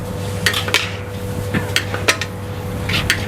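A metal utensil scrapes and clanks against a large wok holding 15 kilos of fried rice in irregular strokes, over a steady background hum and faint sizzling.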